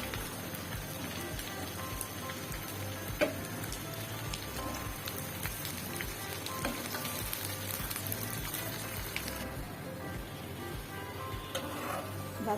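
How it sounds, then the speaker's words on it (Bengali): Shredded beef fries with green chilies and fried onions, a dense, steady sizzle like rain on a surface with scattered ticks and one sharp knock, and no voices. "ভাজা ভাজা করে নিব।"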